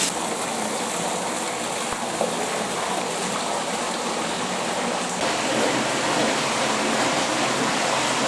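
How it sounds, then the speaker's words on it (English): Hot water spews from a tap into a bathtub in a private bath room in Beppu, a loud, steady, close rushing gush that swells slightly partway through. "Spewing out water."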